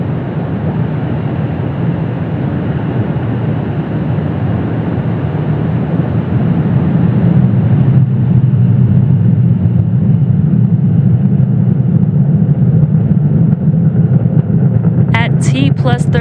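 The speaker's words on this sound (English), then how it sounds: "Falcon 9 has successfully lifted off from Space Launch Complex 40 from Cape Canaveral, Florida" Deep, steady roar of a SpaceX Falcon 9 rocket climbing away from Space Launch Complex 40 at Cape Canaveral, Florida, on a Starlink mission, a continuous low rumble filling the whole stretch, with a narrator's voice running over it.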